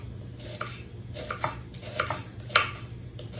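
Knife chopping onions small on a cutting board for potato patties, sparse uneven cuts with soft taps and a few sharper knocks, close and fairly quiet, no talk.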